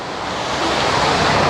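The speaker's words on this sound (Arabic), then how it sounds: "هلا احنا هون عند النافورة" Water from the Montjuic fountain pours and splashes down small cascades, a steady loud rushing hiss with no break, heard close by.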